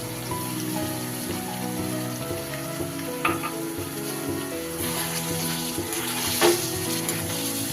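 Chicken with milk and cashew paste is stirred and mixed in a pan for chicken maharani. A steady close sizzle and bubbling runs throughout, with a couple of louder spoon scrapes partway through and near the end.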